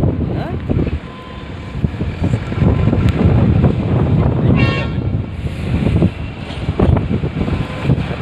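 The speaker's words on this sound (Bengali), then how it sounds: "তো হাওয়া দিচ্ছে ফোনটা" Wind buffets a phone microphone at the Teesta Barrage by the river, a loud, steady low rumble that drowns most other sound, with faint voices underneath.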